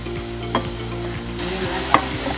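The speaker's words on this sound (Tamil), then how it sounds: "மஞ்சப்பொடி, தேவையான அளவு உப்பு, இதெல்லாம் சேர்த்து நல்லா வதக்கிக்கோங்க." Onions and vegetables sautéing in an oily pan with turmeric powder and salt for a veg kuska, a steady sizzle under repeated scraping stirs of a spoon, with a couple of sharp clinks against the pan.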